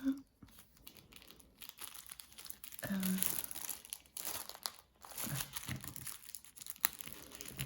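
A package of quilling supplies from AliExpress is torn open nearby, with crinkling plastic, rustling and tearing in uneven bursts and short pauses between handling noises.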